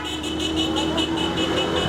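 Car horns honking in a street in solidarity with Ukraine during the Russia conflict, a steady blaring tone with rhythmic pulses over traffic noise, fairly loud and continuous.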